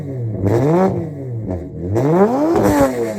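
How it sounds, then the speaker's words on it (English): Nissan G35 sedan drift car with a VQ35DE V6 engine revving twice, each rev rising and falling in pitch with a tinny rattle at higher RPM, loud and close, no talk. "when this car is like higher in the RPMs, it's got like a tinny noise to it."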